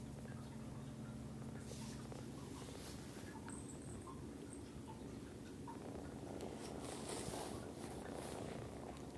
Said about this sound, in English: Always a big purr.